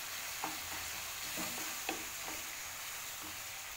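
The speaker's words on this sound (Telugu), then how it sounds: "ఇంగు వేసుకుని బాగా 1 నిమిషం పాటు వేయించుకోవాలి." Asafoetida frying in hot oil for lemon pulihora, a steady soft sizzle with a few faint scraping stirs of a spoon in the pan, close by and with no voices.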